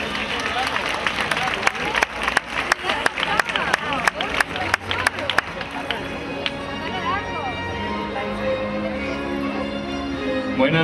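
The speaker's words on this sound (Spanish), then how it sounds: "Vamos a recibir con un fuerte aplauso a Isabel Morales" A crowd at a local pageant-style town festival gives a warm round of applause for a town's representative, steady clapping for several seconds before it tapers off beneath music and a presenter's voice.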